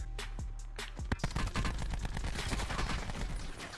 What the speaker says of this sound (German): Dann werde ich gleichzeitig noch von jemand anderes beschossen